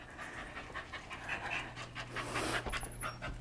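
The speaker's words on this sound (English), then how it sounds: "This is a Wheaten Terrier named Dozer" A Wheaten Terrier dog pants steadily and rhythmically, up close and fairly loud, with a low continuous hum underneath throughout.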